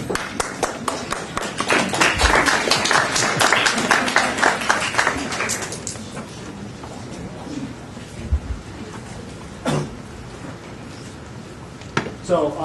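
An audience at a budget meeting claps in a brief, scattered burst of applause that lasts several seconds and then dies away. A few isolated thumps and taps follow, with voices murmuring in the room.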